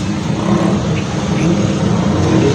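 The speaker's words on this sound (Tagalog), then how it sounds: "Dito yung mga sasakyan sa baba." Steady road traffic rises from the street below a ninth-floor construction site, a continuous loud rumble of passing cars and engines with no clear breaks.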